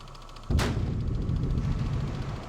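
Depth charges launched from a warship in the naval game Victory at Sea Atlantic, one sudden loud sharp blast followed by a heavy rumbling tail over a low engine drone, no voices.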